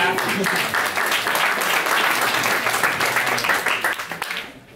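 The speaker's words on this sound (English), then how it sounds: "got way more applause than I did" Audience applause at a race safety meeting, a dense wash of many hands clapping steadily for about four seconds before thinning out and fading at the end.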